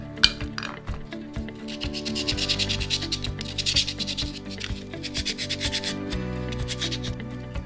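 Steady scraping and rubbing of a rusted part on a BMW 1 Series, rough abrasive strokes running back and forth continuously and fairly close, with occasional light metallic clinks.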